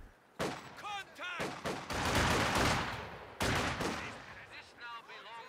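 Rifle fire from conscript infantry in the World War II strategy game Company of Heroes 2, many rapid overlapping shots and small-arms volleys, loud and continuous, with the battle noise swelling as the squads push forward.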